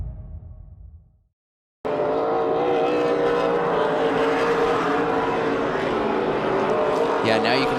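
Race cars roar around Autodrome Montmagny Speedway in an XPN 250 event, a loud sustained engine drone that starts abruptly after a brief silence, with commentators talking underneath.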